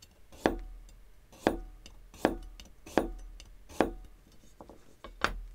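A knife slicing through a radish on a cutting board, six crisp cuts that each end in a sharp knock on the board, spaced about a second apart, close and clear with no talking.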